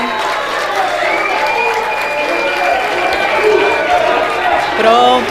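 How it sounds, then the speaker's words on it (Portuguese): A studio audience applauds the candidates at a televised 2016 Rio de Janeiro mayoral debate, a sustained loud wash of clapping with a voice speaking over it throughout. "os candidatos, um grande aplauso"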